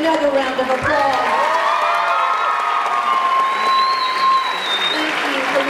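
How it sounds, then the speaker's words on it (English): A school crowd applauds at a college decision day for a student joining the US Navy, sustained clapping with cheering and whooping, while tonal whistle-like sounds and voices rise over it. "Another round of applause."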